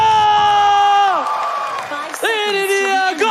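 A crowd at an esports playoff venue cheers and claps, a steady roar beneath a loud, excited announcer's voice and sustained tones from the arena sound system.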